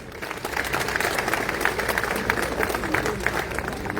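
An audience at a football centenary ceremony in a hall claims applause, steady dense clapping from many hands that holds at a fairly even level throughout.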